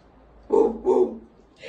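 A trained dog barks on command during an obedience session, two short loud barks in quick succession, close by, followed by the start of another sound.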